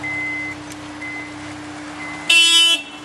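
The horn of a Honda S2000 gives one loud, bright honk lasting about half a second near the end, following a stretch of quiet steady beeping and hum.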